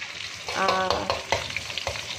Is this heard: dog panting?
no